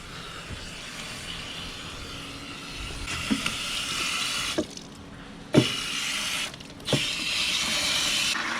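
Water runs steadily into a barn trough through a float valve, a continuous hiss and splash with a few brief clunks and shifts in flow partway through.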